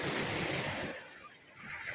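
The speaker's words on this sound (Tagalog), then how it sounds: "Ayan ang maganda dito sa baybay, sa tabing dagat." Ocean waves wash in at a beach, a soft, breathy surf noise with some wind. It is fairly faint, surges at the start and then eases off.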